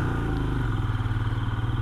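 A motorcycle engine idles with a steady, close throbbing rumble, heard alone on a 15-day motorbike trip through the Himalayas from Manali to Leh.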